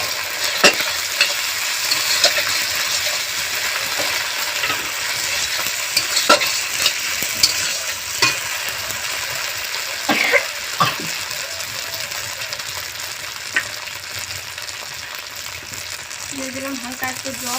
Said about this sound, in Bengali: এবারে দিয়ে দেবো যে কাঁচা আলুটা বেটে রাখছিলাম সেটা।